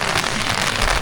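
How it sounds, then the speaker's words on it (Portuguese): Steady light rain patters on a surface at a jungle campsite, a soft continuous hiss with no voices. "Tá chovendo, tá chuviscando fraco, mas tá chuviscando e parece que vai chover mais forte."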